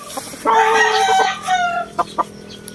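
Chickens cluck and squawk nearby in a burst of rising calls, then a few short clucks trail off against quiet farmyard background.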